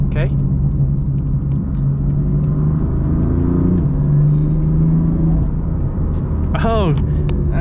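BMW M4 drifting, its engine a steady loud rumble with rising revs through the middle, a voice talking over it and a brief squeal near the end.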